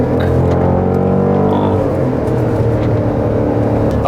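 A Jeep Grand Cherokee SRT, a heavy two-and-a-half-tonne 4x4, accelerating hard, its engine a loud, steady deep roar heard from inside the vehicle throughout, with no talking.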